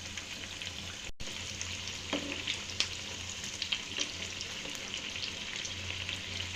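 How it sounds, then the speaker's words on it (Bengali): Spicy egg jhal pitha fries in oil over low heat, giving a soft, even sizzle with occasional crackles and a brief pause near the start, heard close with no speech. "প্রথম পর্যায়ে কিন্তু পিঠাটাকে এইভাবেই হালকা আঁচে ভেজে নিতে হবে।"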